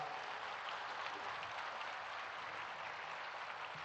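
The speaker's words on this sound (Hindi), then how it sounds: "माननीय प्रधानमंत्री जी के सम्मान में पुनः तालियों की गड़गड़ाहट के साथ" Steady, sustained applause from a large audience honouring the Prime Minister at the inauguration of the Swarved Mahamandir, a dense even roar of clapping filling the whole stretch, slightly distant.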